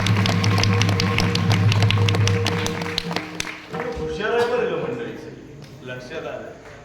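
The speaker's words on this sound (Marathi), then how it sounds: "तुमच्या स्वतःसाठी एकदा टाळ्या वाजवल्या" A crowd clapping in a quick steady rhythm, with voices and a low hum underneath, the claps fading into talk.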